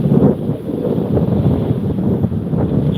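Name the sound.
strong wind blowing outdoors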